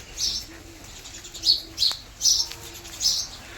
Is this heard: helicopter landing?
no